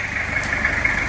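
A diesel engine in a Kijang Kapsul runs at idle while its injector nozzles are purged with a purging canister, a steady, loud, unbroken hum with a constant tonal drone and no voices.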